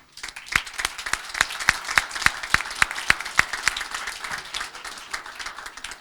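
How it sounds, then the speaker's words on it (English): Applause at a combined council meeting, starting as a few distinct sharp claps with a clear rhythm and then growing into steady clapping from a modest crowd through to the end, with no talking. "I want to applaud you."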